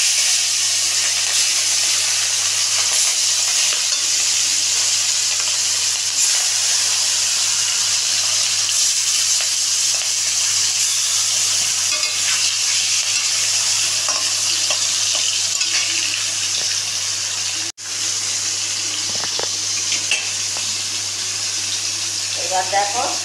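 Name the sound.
hilsa fish frying in oil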